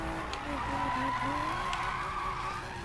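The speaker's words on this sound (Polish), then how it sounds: "Co ten samochód wyprawia na drifcie, to jest niesamowite." A car drifts in Need for Speed 2015 with a continuous, wavering tire squeal over engine roar, steady and fairly loud throughout, while someone talks over the game sound.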